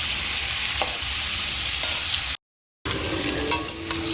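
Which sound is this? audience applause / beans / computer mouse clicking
beans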